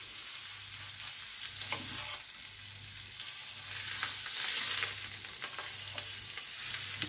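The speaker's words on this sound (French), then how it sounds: "On les fait pivoter dans le beurre" Pieces of salmon or crab frying in Breton butter in a hot pan give off a steady, loud sizzle that holds throughout, with a low hum pulsing underneath.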